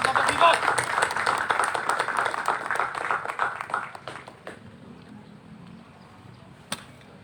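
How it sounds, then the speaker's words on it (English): An audience claps for the MASINDAK police drill team at a training class honors night, a dense burst of applause that thins and fades after about four seconds, leaving a few scattered claps. "A round of applause, please."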